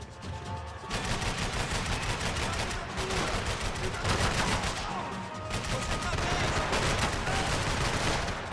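Heavy gunfire in the video game Max Payne 3, dense rapid bursts of shots with bullets whizzing past, loud and nearly continuous, briefly dropping out between volleys.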